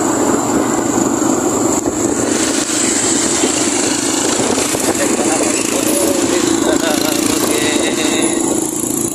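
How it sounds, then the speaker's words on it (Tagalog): The engine of a large motorcycle cab idles loudly with a steady droning rumble, joined by background chatter. "Ganyan yung motor cab dito sa amin guys, oh."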